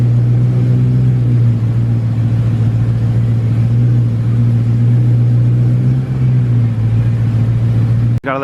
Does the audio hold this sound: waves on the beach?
no